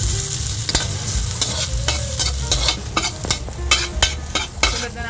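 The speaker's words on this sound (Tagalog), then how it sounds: "mainit na yung ating mantika, kaya ilalagay na natin yung ating luya. Sunod na natin guys yung ating bawang at sibuyas" Ginger, garlic and onion fry loudly in hot oil, a dense crackling sizzle broken by repeated sharp scraping and stirring knocks from a utensil against the pan, with no talk.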